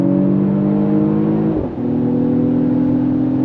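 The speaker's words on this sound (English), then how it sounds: "Launch control, on throttle, here we go." A 2023 Mercedes-AMG GLE 53 SUV pulling away under launch control, a loud steady engine drone close by with a brief dip as it shifts before the note picks up again.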